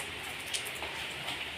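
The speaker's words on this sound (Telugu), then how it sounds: "చూడండి ఫ్రెండ్స్, ఎక్కువ పడుతుంది వర్షం" Heavy rain falls steadily, a dense continuous hiss of drops with a few louder splashes, heard close and with no talking.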